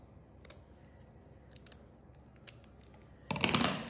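Scissors snipping paper while a doily is cut, a few faint sparse clicks and snips in a quiet room, ending in a louder, closer burst of rustling cuts; no talking.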